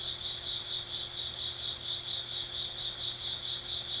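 Steady high cricket chirping pulses on and on in a calm, quiet space, a soft rhythmic trill holding an even level with no one speaking.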